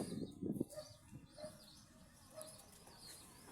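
Small pigeons coo softly nearby at low volume, a few brief murmuring calls and faint rustles over a quiet background.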